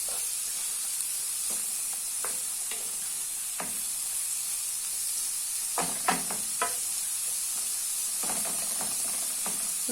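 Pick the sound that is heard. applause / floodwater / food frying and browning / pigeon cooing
food frying and browning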